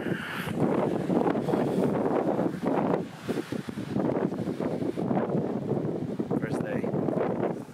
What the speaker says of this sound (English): Oh no, wind.